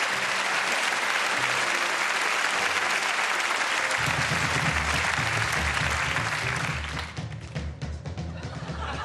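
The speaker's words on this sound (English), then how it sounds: "Round of applause for him, yes?" A studio audience at a magic competition show applauds loudly and continuously. A low, rhythmic music bed comes in partway through, and the clapping thins out toward the end.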